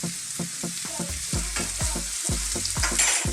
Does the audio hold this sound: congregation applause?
no